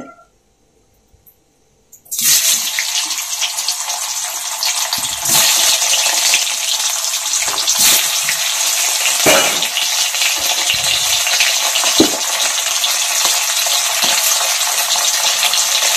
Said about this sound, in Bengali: এখন এই তেলের মধ্যে আলু ছেড়ে দিব, আলুগুলোকেও ভেজে নিব একটু লাল লাল করে।